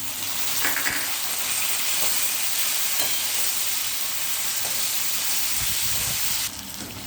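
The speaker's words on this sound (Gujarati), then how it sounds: "હવે ડુંગળી જ્યાં સુધી બ્રાઉન કલરની થાય ત્યાં સુધી આપણે એને સાતડી લેશું" Onions and tomatoes for dhaba-style Punjabi chole sauté in a pan, giving a loud, continuous sizzling hiss with soft stirring, heard alone until it drops slightly near the end.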